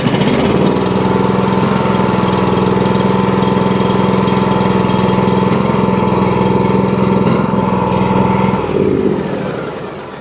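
A John Deere X300 lawn tractor engine, which runs rough and bogs under load, runs loud and steady and close by for most of the stretch, then winds down near the end. No one speaks.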